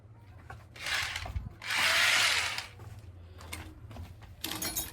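Power drill boring into a 2.5-inch wall to fit an antenna mount, two strong grinding bursts separated by a pause, then lighter scraping and tool noise close by.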